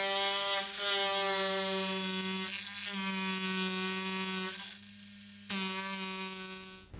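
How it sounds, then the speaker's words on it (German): An electric planer-type power tool routs a seam groove into the underside of a handmade sandal sole, a close, steady high-pitched whine that dips briefly near the end before resuming. "Mit einer Art elektrischem Hobel wird jetzt der Nahtriss auf der Unterseite der Sohle"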